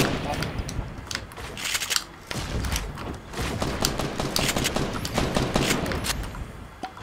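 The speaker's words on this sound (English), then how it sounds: "Where am I getting shot from?" Dense, continuous gunfire from the Fortnite battle royale video game in a squads match, with rapid automatic bursts and heavy shots blending into a loud, steady barrage.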